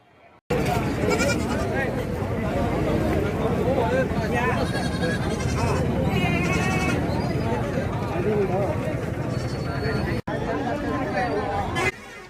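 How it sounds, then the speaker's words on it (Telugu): Goats and sheep bleat at a busy tribal weekly market in Seethampeta, their calls mixed into dense, continuous crowd chatter and bustle from start to finish. "చూడొచ్చు ఇక్కడ చాలా రకాల మేకలు, గొర్రెలు కూడా తెచ్చుతుంటారనమాట."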